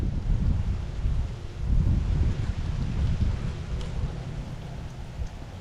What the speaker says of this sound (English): This rain is getting heavy.